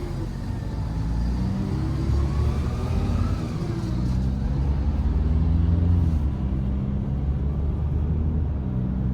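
A Peugeot Rifter GT pulls away gently under light throttle, its engine giving a steady low rumble with a slight rise in pitch inside the cabin.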